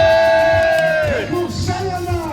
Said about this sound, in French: Allez, un maximum de bruit pour Nathalie.